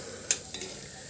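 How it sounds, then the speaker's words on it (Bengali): Pakoras frying in hot oil, a steady faint sizzle with one brief clink near the start, close and alone with no voices. "পকোড়িটা ভেজে নিই"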